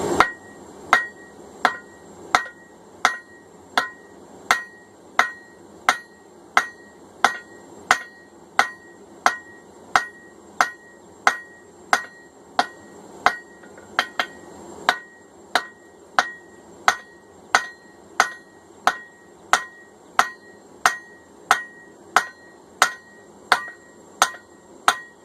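A hand-forged cross peen hammer head of hot steel is drawn down on the anvil, with about thirty sharp, ringing hammer blows at a steady rhythm. The blows are loud and close, with no talking.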